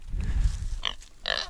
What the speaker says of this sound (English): Those are some happy pigs